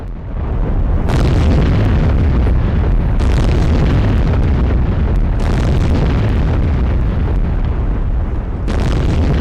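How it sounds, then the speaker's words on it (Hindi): A bridge in Donetsk is blown up, producing a loud, continuous roaring blast with several sharp booming bursts at irregular intervals and no voices. "यूक्रेन की आर्मी ने ये ब्रिज उड़ाया है डोनेस्क में।"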